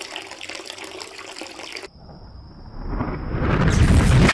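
Water gushes and pours in the video game Dead Synchronicity, threatening a generator. A thin steady tone gives way to a rising, loud rush of water that swells toward the end.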